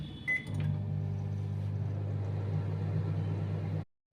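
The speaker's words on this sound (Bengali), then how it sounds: "আবার 10 মিনিটের জন্য আমি মাইক্রোওয়েভে বসিয়ে দিলাম।" A microwave oven cooking chicken tandoori hums steadily and loudly after a few button beeps, then cuts off abruptly near the end.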